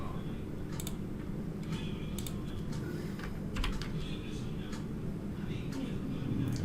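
Keys clatter on a computer keyboard as a command is entered, a run of light, irregular clicks heard close over a steady low background hum.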